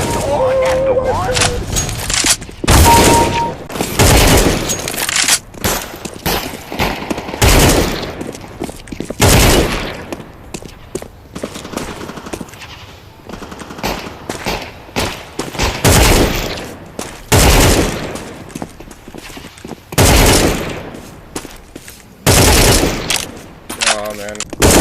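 Rapid gunfire in Counter-Strike (CS:GO / CS2), loud bursts and single shots cracking in clusters, with voices talking between and over the shooting.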